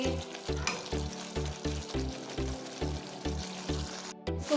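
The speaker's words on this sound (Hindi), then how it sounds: "इसी तरीके से हम इसको तकरीबन 10 मिनट तक भूनेंगे।" Chicken tikka frying with tomatoes in a karahi over coal, a steady loud sizzle broken by regular rhythmic scraping strokes of a spatula, close and alone without talk.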